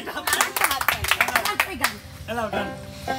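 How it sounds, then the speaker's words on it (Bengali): People clap their hands at a lively entertainment show, a short round of sharp claps that quickly fades. A voice talks over and after the applause. "সেই জন্য একটা হাত তালি।"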